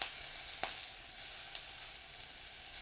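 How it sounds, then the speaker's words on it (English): Raw, unseasoned beef is added to a pan of smoky spring onions for sukiyaki and gives off a steady, close sizzle, with a faint scrape or two of stirring. "So when the spring onions get a bit smoky, we add in our beef."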